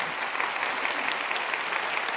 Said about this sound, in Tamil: புரிஞ்சவங்க கைதட்டுவாங்க.